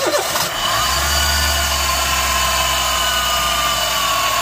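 A Honda City i-VTEC petrol car engine with a bad bearing starts and settles into a steady running drone, with a continuous high whining tone layered over the low rumble.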